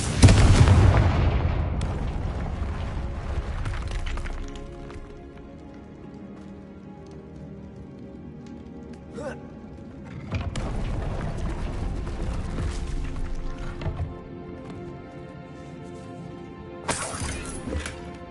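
Confringo spell explosion in Hogwarts Legacy, a loud blast at the start followed by crackling debris and rattling, with further bursts and clattering impacts later, no talk.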